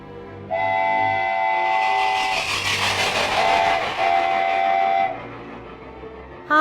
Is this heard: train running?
yes